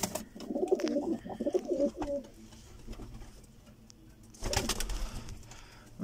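Pigeons coo nearby in soft, rounded bursts, mixed with some rustling and a person talking at moments.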